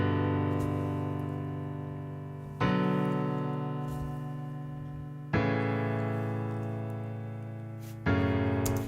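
Bassy piano from the Addictive Keys plugin with no high pass filter, playing four sustained chords that each strike loudly and slowly decay, with nothing else heard.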